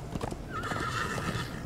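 A horse whinnies in the Minecraft: Story Mode video game, a drawn-out neigh rising over the soft clop of hooves during a chase, loud and close with no talk.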